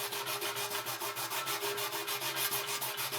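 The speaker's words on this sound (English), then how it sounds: "Something to keep in mind when you're sanding is to go back and forth" Rapid, even back-and-forth rubbing of sandpaper over a dented metal tank, a close, rhythmic scratchy swish repeating without pause.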